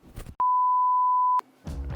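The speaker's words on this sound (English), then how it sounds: "the timer just went off" A kitchen timer in an RV kitchen gives one long, pure electronic beep lasting about a second, loud and close, set between bits of muffled background noise while banana bread bakes.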